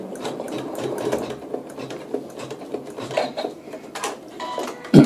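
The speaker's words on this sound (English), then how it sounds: "So I'm just going to hold on to my fabric and let it stitch those couple stitches." A sewing machine runs steadily, stitching through fabric with a soft, fast rattling hum and small mechanical ticks, close by and without speech, ending in a sharper clunk.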